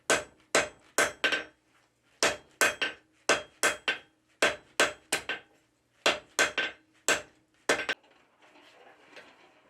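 Hammer blows on hot forge-welded steel bars being upset on an anvil, sharp ringing strikes in quick irregular clusters of two or three, loud and close, ending in a soft hiss.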